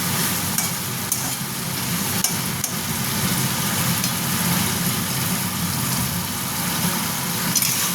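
Ginger and green chilli paste frying in oil in a pan for a pabda fish and brinjal curry, a loud constant sizzle with spatula stirring and occasional scraping clicks.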